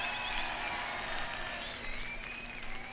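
An audience at a 1971 concert at the Paris Theatre applauds in a dense, steady patter of clapping that stays even in level throughout.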